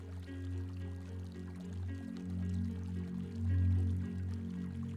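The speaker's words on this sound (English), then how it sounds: "she pours some of Sikora's best ointments on your horn" Ointment oil is poured in a spa setting as a sound effect, giving a steady, gentle liquid pour and trickle for several seconds that swells slightly near the end.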